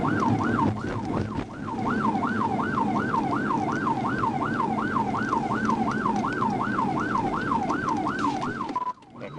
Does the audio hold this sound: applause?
no